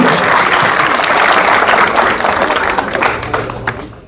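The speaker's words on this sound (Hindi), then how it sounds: "जोरदार ताली बजा दो उनके लिए" A village crowd at a grand welcome for Prateek Rajkumar Sharma applauds loudly, a thick continuous roar of clapping that stays strong before slowly fading toward the end.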